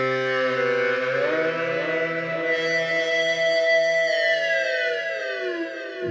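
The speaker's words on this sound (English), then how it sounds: "this is the sound of the iPad" A sustained synthesizer tone from an iPad synth app glides and bends in pitch, with rich shifting harmonics, playing continuously for several seconds.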